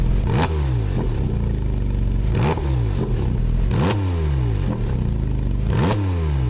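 Porsche 718 Cayman GT4 RS flat-six revved repeatedly, about five sharp blips rising and falling in quick succession, loud and close with no talking.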